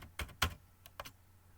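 A few separate key presses on a computer keyboard while commands are typed into a terminal on Ubuntu 20.04, with short clicks spaced out against a quiet background.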